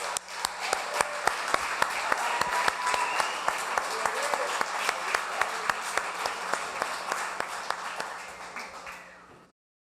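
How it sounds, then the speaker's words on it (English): An audience at the 2017 National Radio Hall of Fame induction ceremony applauds, a sustained wash of clapping with sharp individual claps standing out, fading away at the end. "Please give him a round of applause, please."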